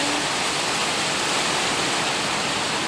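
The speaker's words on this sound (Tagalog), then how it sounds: "sana mamaya-maya ay magminor ng ulan" Heavy rain pours down in a dense, steady hiss that stays loud and even throughout, with no voices or other sounds breaking through.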